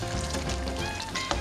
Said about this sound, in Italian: Mescolo il tutto e lo verso nel risotto